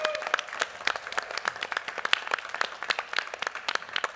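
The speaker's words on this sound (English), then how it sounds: "one more time, a big applause for the winners of tonight." Audience applause for the evening's winners at the Get in the Ring event at Expo 2020 Dubai, with sharp, scattered hand claps rising and falling steadily, fairly close, with no talk over it.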